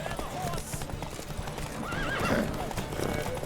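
Horses in The Witcher 3 video game gallop with rapid hoof clip-clops while neighing and whinnying rise over the hoofbeats, and voices call out during the race.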